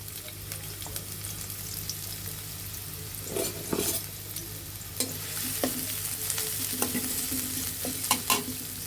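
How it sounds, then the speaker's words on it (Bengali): Chopped onions frying in a little oil in a kadai hiss steadily up close, with scattered clinks and scrapes of stirring growing busier toward the end, and no one speaking. "1 চা চামচ পরিমাণের মতো আমরা সাদা তেল দিয়ে দিব। এর মাঝে আমরা পেঁয়াজ কুচি দিয়ে দেব।"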